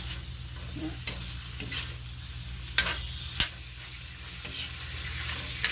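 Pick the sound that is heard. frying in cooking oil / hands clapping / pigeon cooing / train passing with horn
frying in cooking oil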